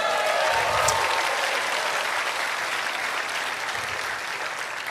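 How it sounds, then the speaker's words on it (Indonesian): Steady applause from an audience honoring Anies Baswedan at an Indonesian event, a dense continuous clatter of many hands that stays loud and even for several seconds with little voice in it. "Tepuk tangan buat Mas Anies Baswedan."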